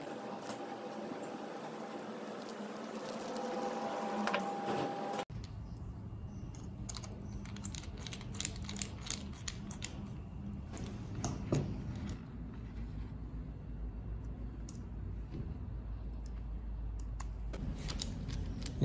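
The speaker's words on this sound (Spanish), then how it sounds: "Vamos a colocar los tornillos." Small metallic clicks and scrapes as screws are fitted and turned into the handle scales of a Browning folding knife, close and irregular over a low background hum, with no talking.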